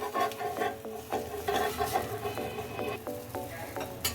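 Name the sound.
banana malpua frying and being flipped in a pan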